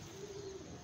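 A racing pigeon gives a single short, soft coo, faint and brief against quiet background noise.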